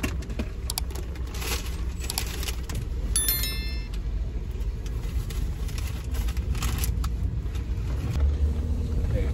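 A car drives along with a steady low road and engine rumble, while small jangling and rattling sounds from inside the cabin come and go over it.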